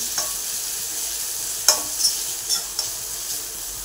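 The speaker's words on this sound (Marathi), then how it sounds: "त्यानंतर शिमला मिरची हेही परतून घेऊया. हे छान मिक्स करून घेऊ, परतून घेऊ." Capsicum stir-fried and mixed in a pan with onion, ginger and garlic for Schezwan fried rice, a constant close sizzle broken by a few sharp clinks and scrapes of the stirring spoon.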